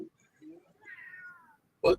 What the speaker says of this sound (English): my cat Sugar.